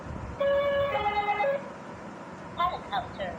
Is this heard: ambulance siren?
yes